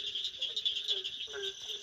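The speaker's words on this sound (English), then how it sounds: "And another barking tree frog." A barking tree frog calls at night, a steady high-pitched chorus with lower rhythmic croaks pulsing repeatedly, moderately distant, with insect buzz behind and no talking.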